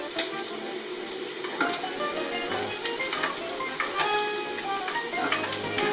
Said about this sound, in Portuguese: Nesse ponto que a linguiça já está bem douradinha, que já está bem tostada, soltou toda a gordura praticamente, a gente vai incluir a cebola